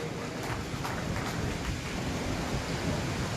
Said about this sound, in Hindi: बहुत बढ़िया, जोरदार ताली बजाइए अपने लिए।